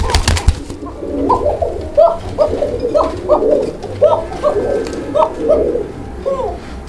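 Pigeons at a pigeon farm cooing in a steady series of repeated rounded calls, close and clear over a low background hum, with a sharp handling clatter at the start.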